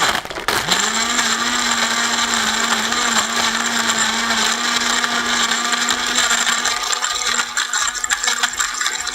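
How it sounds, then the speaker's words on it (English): An electric blender whirs loud and steady as it blends a chocolatey slushie cocktail, a constant motor drone with rattling ice and no talk. "Here comes the blender."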